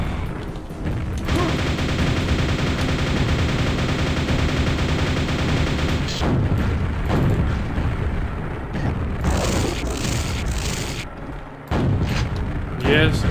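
A plasma weapon in the Quake video game fires a loud, sustained stream for several seconds, followed by further bursts and heavy impacts, with a voice speaking over the action.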